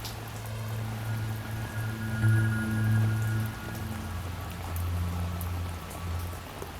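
Steady rain falls without a break, a dense, even hiss of drops hitting surfaces at a moderate level, with a low drone running beneath.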